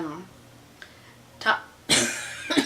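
A few loud, harsh coughs in quick bursts close to the mic, following a brief spoken word.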